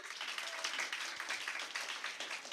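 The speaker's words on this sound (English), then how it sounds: "Another round of applause for them" Audience clapping for students at an impromptu speaking competition, a steady even round of applause heard from some distance at moderate volume.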